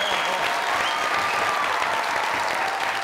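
A studio audience at a comedy talk show gives loud, continuous applause that fills the room evenly throughout, with no talking over it.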